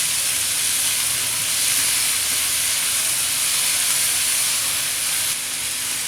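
Chopped green chillies and ginger-garlic paste stirred into a hot pan with tomatoes for a Maharaja omelette, giving a loud, steady hiss and sizzle that runs unbroken throughout.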